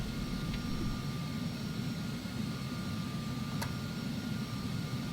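Jet engine drone of an Embraer Phenom 300 in the Prepar3D flight simulator, a steady low rumble with a constant hiss, even and unbroken throughout, with one faint brief click partway through.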